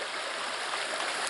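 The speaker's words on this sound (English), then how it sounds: "And the creek has doubled in size" A forest creek swollen after rain rushes steadily, a broad, even, fairly soft wash of flowing water with no voices.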